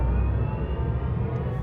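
A MINI Cooper SE electric car in go-kart mode drives along a fairly fast road, producing a steady synthetic hum over a low, continuous rumble.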